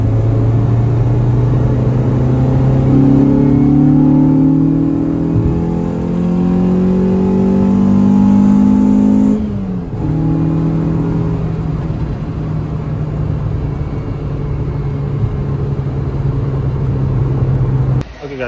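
A car engine fitted with a custom cold air intake revs up and holds a loud, droning pitch, drops back briefly, then settles into a steady, rumbling idle close by.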